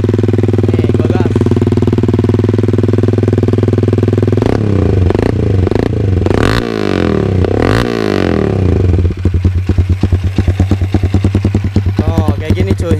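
Supra GTR motorcycle with a 188cc bore-up engine, Thai style, idling steadily then blipped hard through several sharp revs before settling into a fast, lumpy idle, loud and close with no talk.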